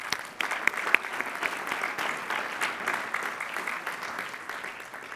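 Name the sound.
applause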